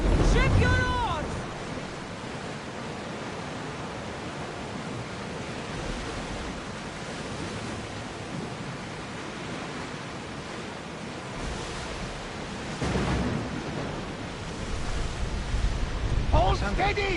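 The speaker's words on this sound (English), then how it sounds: "I don't like the look of that storm!" Stormy sea in a PS4 video game, with broad rushing wind and crashing waves that swell and ease over about seventeen seconds. The sound is steady and full, gets louder toward the end, and has a brief tonal cue near the start.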